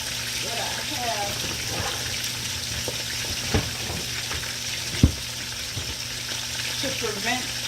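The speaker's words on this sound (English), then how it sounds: "I have 2, 4, 6, 8, 10, 11 pieces of chicken I'm searing off at a time" Eleven chicken pieces sear in a frying pan for brown stew chicken, giving a constant close sizzle and frying hiss broken by a few sharp clicks and scrapes of the pan.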